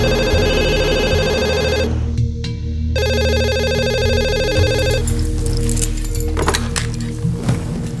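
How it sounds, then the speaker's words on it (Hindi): A telephone rings in a TV crime drama scene, a steady electronic ringtone with repeating tonal bursts and a short gap, followed by rustling handling noises. "वो सीधा आदित्य की मम्मी को फोन मारने लगा।"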